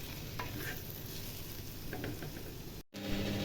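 Prawns fry in a pan with split small kanthari chillies, crackling in a steady, close sizzle with scraping stirs, briefly cut off near the end before the frying hiss returns.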